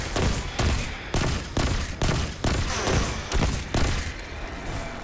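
Gunfire in the video game Destiny 2 as a player shoots at a rock on Mars, loud sustained bursts of shots with heavy rhythmic thumps repeating through the whole stretch, no talking over it.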